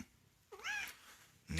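A cat meows close by, one drawn-out rising and falling meow followed by the start of another, with quiet room background between calls.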